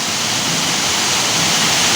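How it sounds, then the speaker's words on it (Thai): Waterfall on the grounds of Wat Sala Loi temple in Korat, a dense, steady rush of falling water that fills the whole scene, loud and close with no other sounds. "บริเวณวัดก็จะมีน้ำตกนะครับ"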